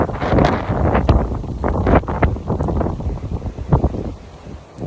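Gusty wind blows outdoors and buffets the microphone with loud, rumbling, uneven gusts that rise and fall over several seconds, with no voices.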